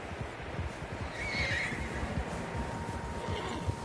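In the video game Red Dead Redemption 2, a horse whinnies loudly over a steady rumble of hooves and galloping, with the noise of several animals moving together throughout.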